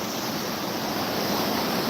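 Floodwater on the White River rushing steadily in a broad, continuous roar, loud and close, with wind buffeting the microphone and no talk.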